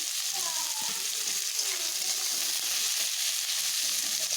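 Onions with salt frying in a wok alongside a green chilli, a steady dense sizzle throughout with faint stirring scrapes near the start.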